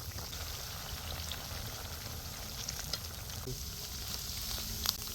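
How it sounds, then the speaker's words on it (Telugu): Chicken 65 deep frying in hot oil, with a steady, dense sizzle and bubbling that holds at an even level throughout, plus faint stirring clinks. "మంచిగా డీప్ ఫ్రై అయితే చేసేసుకోవాలన్నమాట నీట్గా చక్కగా మధ్య మధ్యలో కలుపుకుంటూ ఉండండి"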